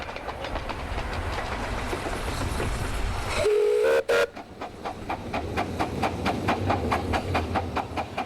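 The locomotive Hurricane runs on the Evesham Vale Light Railway, with a steady rhythmic chuffing and clatter, a brief loud whistle-like blast midway, then repeating sharp beats as it continues close by.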